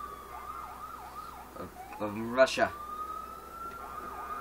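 An ambulance siren in GTA 4 wails in repeating swoops at moderate distance, broken briefly by a man's speech and a burst of game noise before the wailing resumes.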